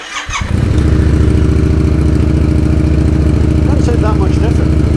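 Yamaha MT-07 motorcycle with a Musarri aftermarket exhaust, heard close up as the engine starts and then settles into a loud, steady, throbbing idle with no voices.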